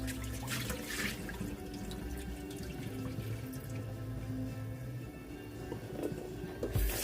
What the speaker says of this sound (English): I'm gonna rinse off the vinegariness